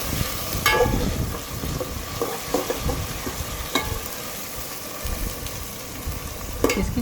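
Green chili paste with onions spits and sizzles in hot oil for a shallow daal base, a steady frying hiss with a few sharp pops and the scrape of stirring, close and alone without voices.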